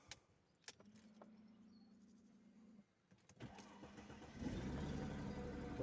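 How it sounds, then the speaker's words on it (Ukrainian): A Mercedes-Benz E280 W210 engine cranks briefly, stops, then cranks again and catches after a crankshaft position sensor replacement, settling into a steady idle; faint clicks and a whir precede it. "Пробуємо запускати двигун."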